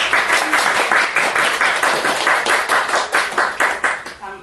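A small audience at a book talk with an author gives close, brisk clapping that pulses steadily for about four seconds, ending as a voice begins.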